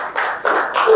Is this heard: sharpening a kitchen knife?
no